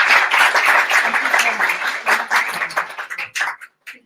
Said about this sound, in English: Can I invite everyone to just give another round of applause?